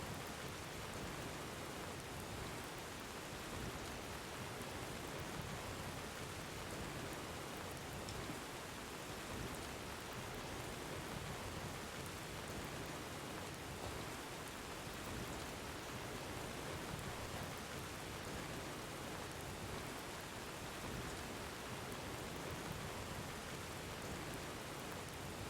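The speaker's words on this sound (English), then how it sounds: "Hello, rain." Steady rain falls in the video game Fallout 4, a dense, even hiss that continues unbroken and soft throughout with no voices.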